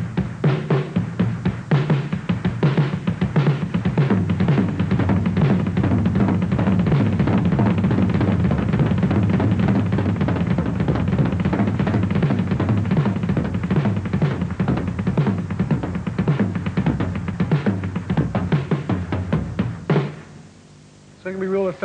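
A drum kit plays a fast, dense pattern combined with pairs of bass drum hits, with steady pounding kick strokes under crashing cymbals, loud and continuous for about twenty seconds before stopping abruptly.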